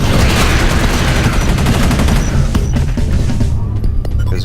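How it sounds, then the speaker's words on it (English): An alien bangs on a door in the sci-fi shooter Space Beast Terror Fright: loud, rapid repeated impacts in a dense barrage, thinning into a few scattered heavy thuds at the end. "That sound there, the banging, is an alien banging on a door."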